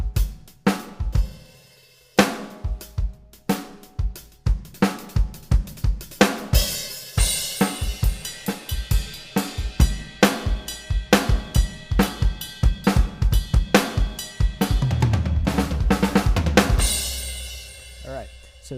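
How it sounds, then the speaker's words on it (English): Metal snare drum from the Abbey Road Modern Drums sample library, struck in a long run of crisp hits, some spaced and some rapid, building to a dense roll near the end; loud and close, no talking. "So that is the metal snare."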